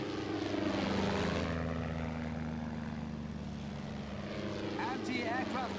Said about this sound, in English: Aircraft incoming!